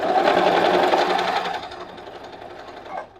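A sewing machine stitching double hair weft runs in a rapid, even whirring chatter, close and clear, then slows and fades over the last second or so, with no talk.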